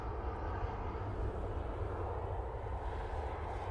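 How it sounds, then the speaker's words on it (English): An SAS Airbus A320neo airliner arriving from Copenhagen at Manchester Airport gives off a steady low engine rumble and broad roar, moderately distant and fairly quiet, with no break. "SAS A320neo coming in from Copenhagen."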